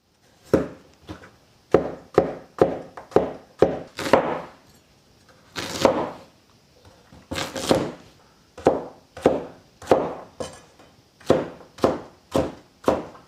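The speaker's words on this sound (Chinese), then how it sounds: "香料我们先准备一个洋芋，还有一点红苕，给它切成壳块儿" Potato and sweet potato chopped into chunks with a knife on a cutting board: a long run of crisp, evenly spaced strikes, about eighteen in all, close by with no voices.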